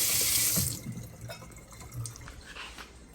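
Tap water runs loudly and splashes while the water tank of a Jura ENA 4 espresso machine is refilled during cleaning, then eases into softer trickling and dripping.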